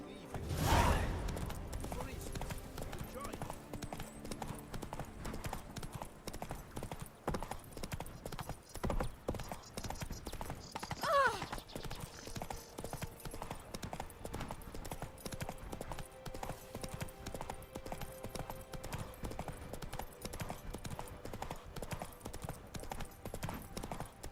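Horse hooves gallop in a steady, quick rhythm throughout The Witcher 3 open-world gameplay, loud and close, with brief swooshes and background game effects layered over the hoofbeats.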